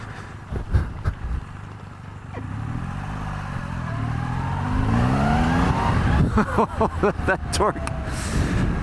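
A 2020 Triumph Rocket 3 GT motorcycle engine revving and accelerating, rising whine building over several seconds, with voices talking over the engine noise.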